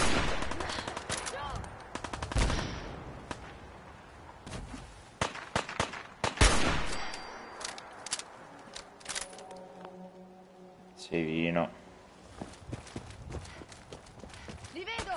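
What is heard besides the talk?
gunfire in video game Fallout 4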